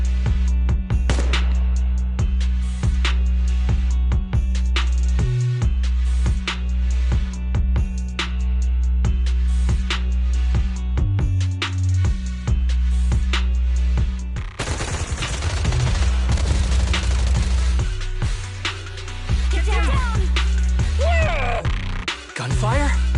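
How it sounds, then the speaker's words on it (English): Suppressive marching gunfire in the video game Zenless Zone Zero rattles in long, rapid automatic bursts over a low, droning background score, the shots crackling continuously and shifting in intensity partway through. "Gunfire? This pattern. Suppressive marching fire."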